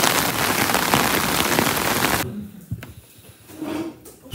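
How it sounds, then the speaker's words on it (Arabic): Heavy rain pours down in Germany in a loud, dense, continuous hiss, then cuts off abruptly halfway through, leaving quieter scattered sounds and faint background noise. "ما شاء الله على المطر"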